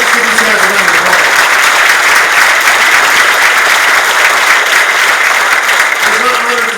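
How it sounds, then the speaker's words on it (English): Loud, sustained audience applause at an awards ceremony, a continuous wash of many hands clapping, with a voice speaking briefly at the start and end. "Let's give these guys a round of applause."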